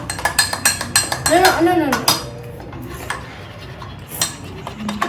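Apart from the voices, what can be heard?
mixing eggless Oreo mug cake batter fast in a mug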